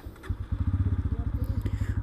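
Bajaj Pulsar N160 motorcycle engine running close by, a steady rapid pulsing thrum that picks up after a brief start and holds an even idle-like beat throughout.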